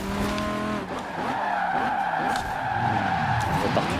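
A car in Forza Horizon 4 skids through a corner, a loud sustained tire squeal with wavering pitch over the racing engine's whine, continuous and close.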